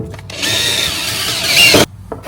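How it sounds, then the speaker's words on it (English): A power drill with a 1/4 inch bit bores into a truck bed in one steady, loud, close whine lasting just over a second, rising in strain near the end before cutting off, with a few brief handling sounds around it. "It's always fun drilling holes into your truck."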